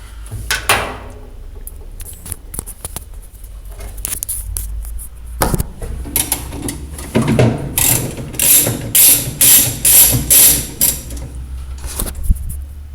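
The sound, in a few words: ratchet loosening a screw on a Kenmore washer agitator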